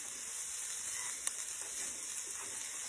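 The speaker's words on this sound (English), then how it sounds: "sauteing those up in my garlic infused olive oil" Onions sauté in garlic-infused olive oil, giving a steady, close, quiet sizzle with a faint tick partway through.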